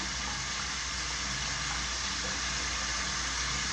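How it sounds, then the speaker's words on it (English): Water splashing steadily from a running tap as a face is thoroughly rinsed during makeup removal, a continuous close rush and spatter with no talking. "I'm just going to thoroughly rinse this off"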